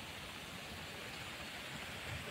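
Steady rain falls across a botanical garden in Singapore, a soft, even hiss of drops that holds constant from start to finish without any talking.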